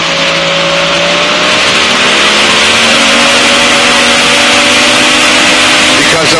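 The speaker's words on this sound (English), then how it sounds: "We'll do a right run up while we're scanning for traffic." Light airplane engine during a run-up before takeoff after a radiator change, a loud steady drone close to the cockpit with slowly shifting pitch throughout.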